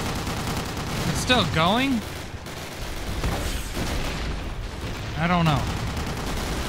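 Gunfire and battlefield noise from Call of Duty: United Offensive plays steadily throughout, a dense wash of shots and blasts under someone speaking in short bursts.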